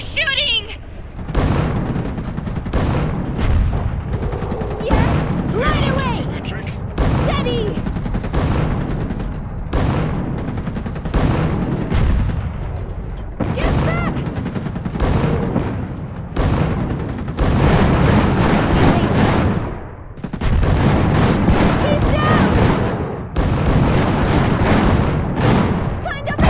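Real-time strategy game Iron Harvest battle: dense, continuous gunfire and booming explosions under game music, with unit voice lines and speech over the top throughout.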